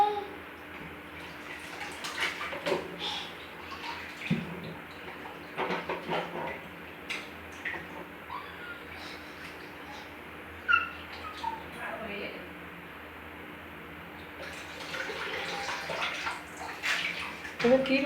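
Water runs and splashes steadily in a bathroom while someone bathes, a constant wash with occasional sloshes and drips, and voices talk over it.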